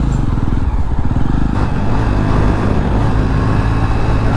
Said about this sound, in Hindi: गाइस बाइक का साउंड बोलो भाई